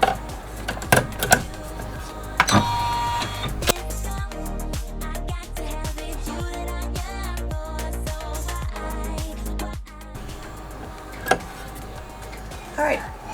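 Embroidery machine running its first color placement stitch through a hooped medium-weight tearaway stabilizer, a steady rapid mechanical chatter of needle strokes with a few louder clunks, close and continuous.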